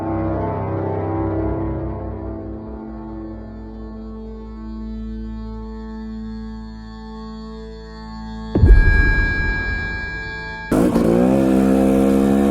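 A dirt bike engine idles low, then bursts into loud revving, cuts out, and roars again near the end; no voices.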